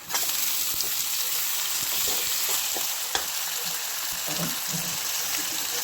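Onion masala with added tomatoes frying in a pan for a Marathi matki bhaji, giving a steady, close sizzle with faint clicks and scrapes from stirring throughout.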